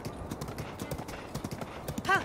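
Horse hooves clip-clop along a road in Zelda: Breath of the Wild, a steady run of soft hoofbeats with a brief whinny near the end and someone talking over them.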